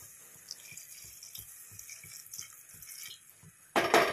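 Water goes into a hot pan of chilli and turmeric powder in a home kitchen. Faint, regular drips and taps lead up to a sudden loud, close splashing burst near the end.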